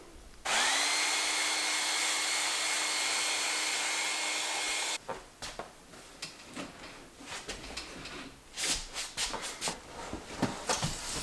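Hairdryer blowing on a craft piece to hasten curing, a loud, steady whooshing drone for about four seconds that cuts off abruptly, followed by scattered handling, rustling and clattering sounds.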